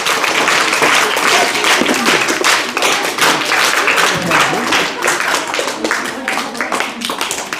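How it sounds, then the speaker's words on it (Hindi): Crowd applause at a school medal ceremony in Baramulla, loud sustained clapping from many hands with voices mixed in underneath. "जोरदार ताली हो जाए।"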